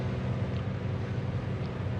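Grumman Goose twin piston engines in Microsoft Flight Simulator, heard as a steady, muffled broadband drone with low rumble, constant and unbroken throughout, no voices.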